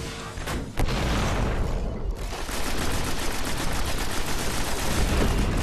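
Enemy gunfire rattles in Destiny: loud, sustained rapid-fire bursts with a couple of sharp separate cracks early on, then a dense continuous volley running to the end, with no voices over it.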